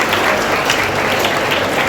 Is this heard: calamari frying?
no